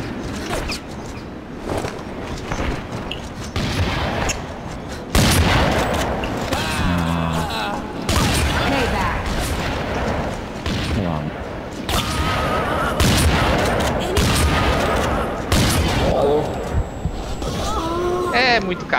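Shots ring out during a shotgun match in a video game, repeated sharp bursts scattered across the stretch while someone talks excitedly over them throughout.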